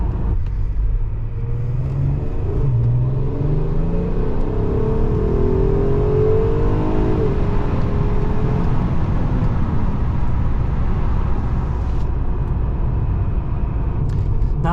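A stock Volkswagen Golf R32 accelerates briefly, its engine note rising in a steady close rumble with a faint whir that fills the whole stretch without talk.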